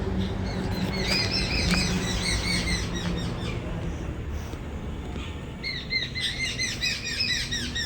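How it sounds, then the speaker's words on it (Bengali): Small birds chirping in the morning, repeated high twittering calls from several birds at moderate distance over a steady background hum, with no talk. "আর পাখিগুলো কিচকিচ কিচকিচ করে কোথায় যেন একটা ডাকছে"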